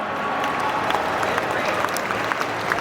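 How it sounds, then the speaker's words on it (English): Loud, steady applause from a pageant audience honoring the judges, dense clapping and crowd noise filling the whole stretch without a break. "give a round of applause to our judges just one more time"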